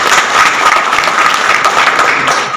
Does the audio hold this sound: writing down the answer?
no